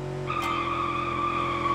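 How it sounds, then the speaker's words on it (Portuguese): Tires squealing on a car in a BeamNG.Drive race, a sustained high-pitched screech over a steady engine drone, close and loud for nearly two seconds. "Mãe, canta pneu, hein?"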